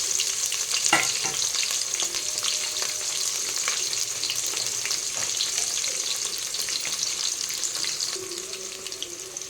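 Sliced onion with cardamom, cloves, a bay leaf and other whole spices fries in a pan for chicken pulao, giving a steady crackling sizzle with scattered sharp pops and stirring scrapes, no voices.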